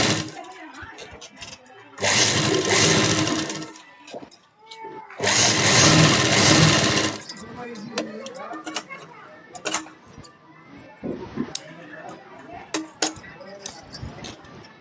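A sewing machine stitches around a blouse katori in two sustained bursts of rapid, close whirring, separated by pauses filled with handling clicks, fabric rustles and someone speaking.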